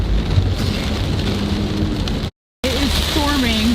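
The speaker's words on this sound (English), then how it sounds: "It is just pouring rain." Heavy rain pours steadily onto a moving Ford Escape during a thunderstorm, a dense loud hiss with a brief dropout midway, followed by faint tonal sounds inside the car.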